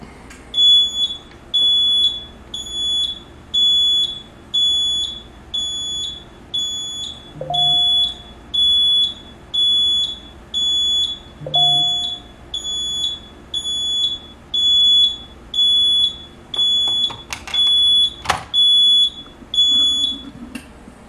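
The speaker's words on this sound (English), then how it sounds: "let's take a horn off" A fire alarm horn on a Notifier fire alarm panel system sounds as loud, close, rapid electronic beeps that repeat in a steady, even pulse throughout, with no talking.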